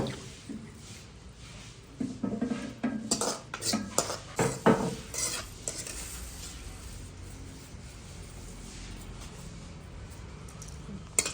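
A ladle clatters and scrapes in a vessel for a few seconds while a tempering is mixed into a moong dal dish during a home Rama Navami festival, then fades to quiet room hiss.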